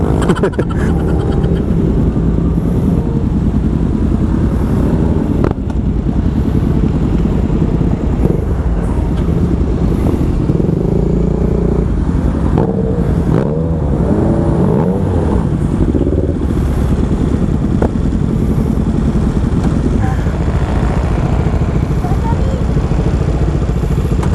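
Steady engine drone from big motorcycles riding in a group on the road, a continuous low rumble with occasional revving, close by and constant throughout.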